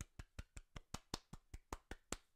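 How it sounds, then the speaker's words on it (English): A podcast host claps by hand in place of a recorded applause effect: about a dozen quick, evenly spaced claps in a steady rhythm, close to the microphone but fairly quiet, with no voices. "So that was real life clapping."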